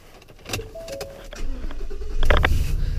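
A 2017 Ford F-350 pickup truck with a ticking engine is started. A short cranking whine and some clicks lead into a rising engine rumble that catches and settles near the end, recorded up close.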